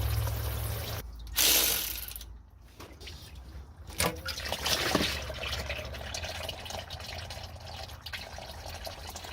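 Fluid drains out of the underside of a 1971 Dodge D100 truck, a steady trickling splash continuing after a few metallic clicks and clanks, fairly close and moderately quiet.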